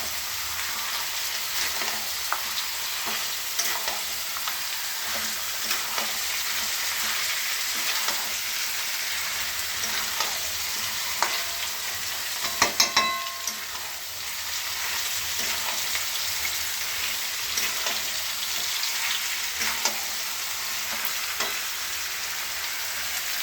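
Potatoes and meat fry in a pan with a steady, close sizzle and crackle, punctuated by occasional stirring scrapes and clinks, with no talking.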